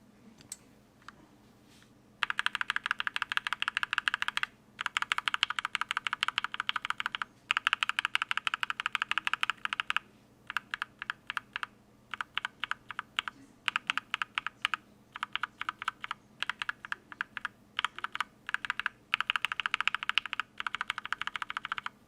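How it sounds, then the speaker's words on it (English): Continuous typing on a mechanical keyboard fitted with lubed and filmed H1 linear switches, bursts of quick even keystrokes close to the mic with short pauses between runs, no talking. "So once again, lubed and filmed H1, lubed and filmed H1 with the cherry top, and mauve lubed and filmed."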